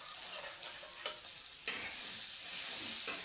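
Chopped mutton with green fenugreek stirred and frying on low heat in a pan, a steady close sizzle with scattered scraping clinks of the spoon, no talking.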